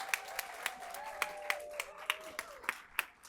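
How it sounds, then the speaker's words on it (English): Scattered applause at a nurse awards ceremony, fairly quiet and sparse, with distinct individual claps standing out at a regular pace and a voice or tone humming faintly underneath. "now we can hoop and holler and applaud."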